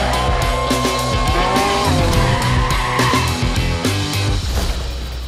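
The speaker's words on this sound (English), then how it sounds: "AWS DeepRacer, which is a fully autonomous 1/18th scale race car driven by reinforcement learning" Small 1/18 scale autonomous race car at a competition in an arena, tires squealing and skidding loudly over a dense background of crowd noise and amplified music, constant and close.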